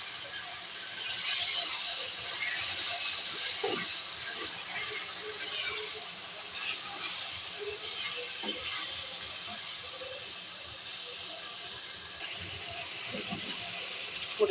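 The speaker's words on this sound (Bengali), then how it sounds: "আমার মশলাটা কষানো হয়ে গিয়েছে, আমি এখন মাংসগুলো ঢেলে দেব।" Beef pieces poured into hot, fried spice paste of ginger, cumin, onion and garlic for a homemade tehari, producing a steady loud sizzling hiss that stays constant throughout.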